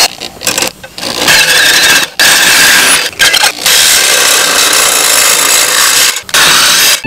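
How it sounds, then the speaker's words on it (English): A power drill with a long drywall-type attachment grinds into the bottom catalytic converter of an Alfa Romeo, making loud, close, harsh drilling bursts separated by brief pauses, with no voices. "I'm gonna try taking the drill, drilling out the bottom catalyst, and see if that works"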